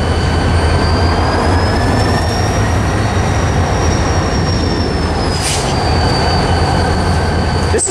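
Freight train with several ex-Southern Pacific locomotives rolling past, a loud steady rumble of wheels and cars with high wheel squeal throughout, the sound filling the whole stretch without a break.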